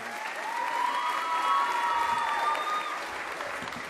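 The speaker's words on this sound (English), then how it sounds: "a huge round of applause, because you've done a fantastic job this evening" A crowd applauds steadily at a school Pride awards evening, a dense wash of clapping that swells slightly and then holds at a fairly loud level throughout.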